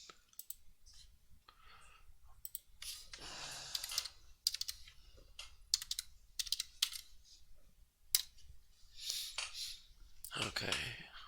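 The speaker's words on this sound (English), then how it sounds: "I'm going to type that in." Typing on a computer keyboard comes in close, light bursts of rapid key clicks separated by short pauses, with soft breathing or a quiet voice in places.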